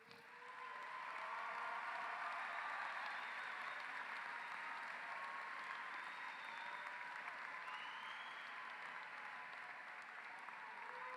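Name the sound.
audience applause at a graduation ceremony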